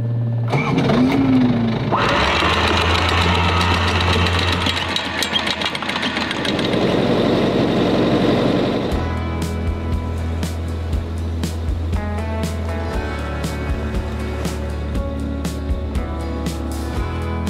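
A boat engine hums and idles steadily beneath water wash while cruising past old stone structures along the Greek coast in the early morning, the motor tone shifting partway through then settling into an even drone.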